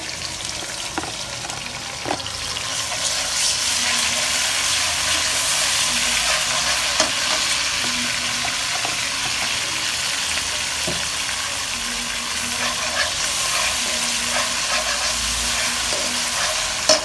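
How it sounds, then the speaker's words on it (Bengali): Chopped onion frying in a pan for white pulao, a steady close sizzle with stirring scrapes running throughout, loud and continuous with no talking. "পেঁয়াজটা দিয়ে দিব অল্প করে। পেঁয়াজটা লাল হলে আমি আদাটা দিয়ে দিব"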